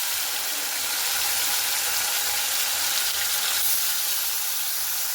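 Fish frying in oil in a pan, a steady close bright sizzle that holds evenly throughout with no talk.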